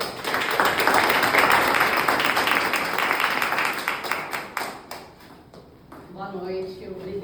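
A lecture audience at a Brazilian event applauds loudly to welcome a speaker, dense clapping that fades after about five seconds, leaving scattered claps before a voice begins talking near the end.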